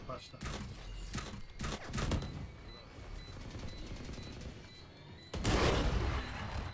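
Gunshots in the tactical shooter game Valorant crack in several sharp bursts, with a heavier volley near the end, while a player talks over the action.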